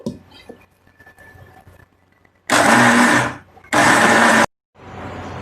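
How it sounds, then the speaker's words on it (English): An electric mixer-grinder whirs loudly in two bursts, grinding soaked rice with banana into coarse batter for Kerala unniyappam, after a quiet stretch of faint handling noises and just before a third run begins. "Now I will grind this."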